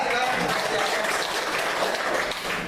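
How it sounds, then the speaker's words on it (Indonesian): Steady applause from a room of trainees at a PKS party orientation session, dense and continuous clapping close by for the whole stretch. "tepuk tangan dulu Bapak"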